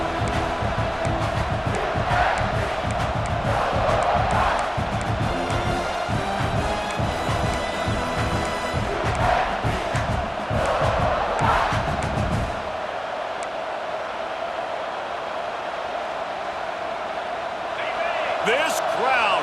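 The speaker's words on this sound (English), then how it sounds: "This crowd, full throat, splitting the eardrums and letting them know it's going to be a long day" Full-throated crowd roar fills a College Football 26 video game stadium, a dense, loud wall of cheering with surging swells and rhythmic chant-like pulses, easing slightly in the later seconds before building again.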